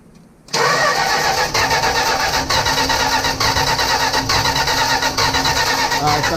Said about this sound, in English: All right, spin it over again.